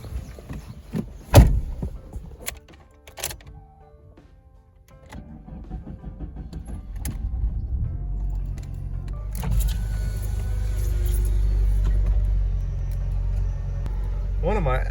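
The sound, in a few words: car engine being started and running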